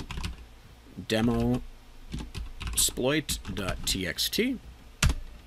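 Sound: typing on a computer keyboard

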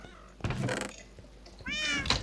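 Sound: cat meowing in Minecraft video game

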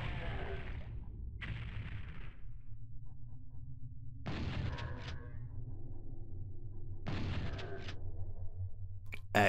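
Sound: fireballs from the video game Final Doom Plutonia

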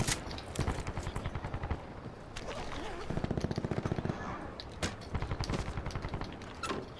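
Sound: gunfire from a video game, Call of Duty Black Ops 4

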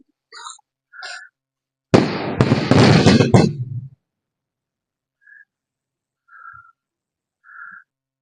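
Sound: weather-modification flares fired into the sky

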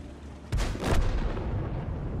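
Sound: tank cannon fire in a video game skirmish

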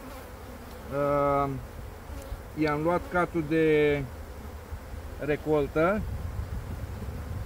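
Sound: honeybees buzzing at an opened hive

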